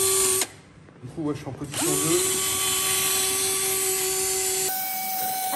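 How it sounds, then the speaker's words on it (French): Power sander wet sanding Renault Twingo car bodywork with coarse grit, a steady droning whine that cuts in and holds level at close range, with someone speaking briefly before it starts. "on va venir poncer au plus gros grain"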